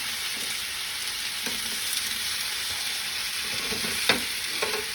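Potatoes, onions and garlic fry in hot oil on high heat, a steady bright sizzle with occasional soft scrapes and clinks of stirring, no talking.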